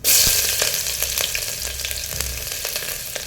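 Half an onion and mustard seeds hit hot oil in a pan for a thondekayi (ivy gourd) gravy, giving a loud, steady sizzle scattered with sharp crackles and pops from the seeds, close and with no talking.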